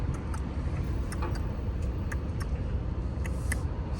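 A gravel rock wedged in a truck tire clicks against pavement in a regular ticking rhythm over a low rumbling road drone, each tick crisp and fairly close.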